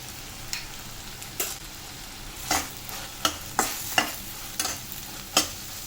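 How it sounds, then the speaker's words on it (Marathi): Snake gourd vegetable curry with masala being stirred in a pan, a soft background sizzle broken by about ten irregular scraping clinks of a spoon against the pan. "आता आपल्याला व्यवस्थित हलवून घेऊया"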